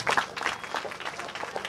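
Audience applause at a Raja festival stage show in Niali, Odisha, a short burst of clapping with some crowd noise, moderately loud and uneven.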